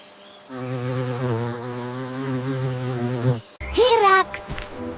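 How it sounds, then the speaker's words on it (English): A mosquito's steady, droning hum sounds near and clear for about three seconds, then cuts off and gives way to a brief, different chirpy call. "Mosquito."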